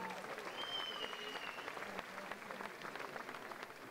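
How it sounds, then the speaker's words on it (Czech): An audience applauds at a folk festival dance competition, a dense spread of hand clapping heard somewhat faintly with a voice briefly speaking over it and a whistle-like tone early on. "Děkujeme. Tleskáme."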